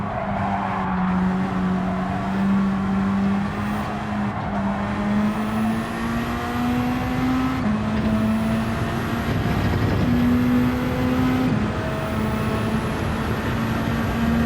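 A race car engine in the Flat Out Racing video game drones steadily and loudly, rising through the gears with brief shift dips and tire noise, with no speech over it.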